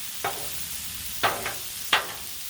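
Linguica fried rice on a Blackstone griddle at medium-low heat gives a steady soft sizzle, with three sharp scraping strokes of a spatula standing out close by.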